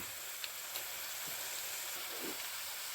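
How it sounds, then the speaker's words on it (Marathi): Spring onion greens sautéed in a pan give a steady, faint hiss of sizzling oil, with a few soft pops and scrapes over it, close and continuous, with no voices. "ही पात चांगली परतू द्यायची"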